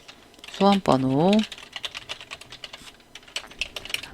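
A file name is typed on a computer keyboard as a run of quick, light key clicks, close by, with a short spoken word heard at the start.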